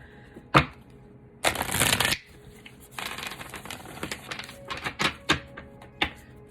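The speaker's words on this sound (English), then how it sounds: "So one more shuffle here." A deck of cards being riffle-shuffled: several crisp bursts of fluttering cards, one long dense riffle followed by quicker taps and snaps, close and clear.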